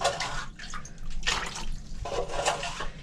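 Water is scooped and dumped by bucket out of a boat's storage locker, giving close, irregular bursts of splashing and pouring with short drips between.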